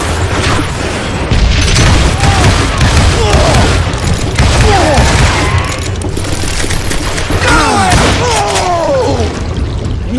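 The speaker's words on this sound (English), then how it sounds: "I can shoot too!" Loud, rapid bursts of gunfire and heavy booms from a Western shootout in the video game Call of Juarez: Gunslinger, firing in clustered volleys with ricochet-like whines over a continuous roar.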